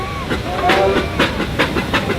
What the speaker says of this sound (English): That's why the steam's coming out there and not up the chimney.